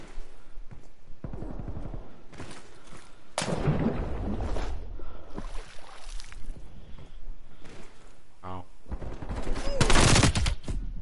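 MP5 submachine gun fire in a video game, loud rapid bursts and fusillades breaking out repeatedly across the clip, mixed with thuds and other game effects, a denser volley near the end.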